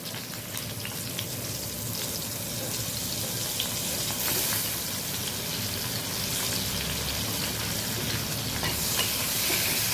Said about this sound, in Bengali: বেগুনগুলো ভাজা ভাজা হয়ে গেলে